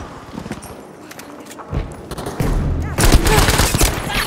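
Gunfire from Battlefield V erupts in dense bursts, a sharp volley building into heavy, continuous shots near the end, with footstep-like clatter and game noise underneath.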